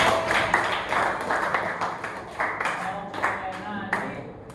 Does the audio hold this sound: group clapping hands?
yes